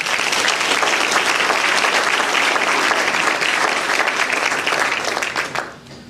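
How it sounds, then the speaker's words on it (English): A crowd claps steadily and loudly for several seconds at a Teacher of the Year celebration, the applause fading out near the end. "Let's give them a round of applause."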